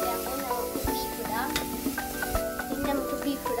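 Tomatoes frying for beef curry are stirred in a pan, a close sizzle with scraping and clinking strokes from a spoon against the metal, several distinct hits over a steady hiss, with no talk.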